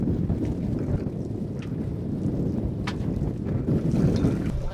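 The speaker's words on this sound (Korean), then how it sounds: "갑자기 바람이 세지더니 파도가 높아졌습니다" Strong wind buffets a fishing boat hunting yellowtail on rough, high waves off Moseulpo, a constant low roar of gusts and water rushing against the hull, with no talk.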